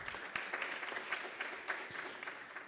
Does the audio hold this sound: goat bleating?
no